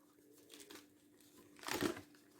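A cardboard game piece is pulled free from a Ludo Kit board: soft rustling, then a louder crinkling tear near the end, close by and with no talk over it.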